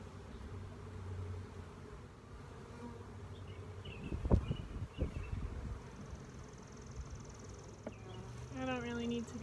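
A steady drone of many buzzing bees fills the air close by, with a few louder thumps and rustles midway and a brief higher whine near the end.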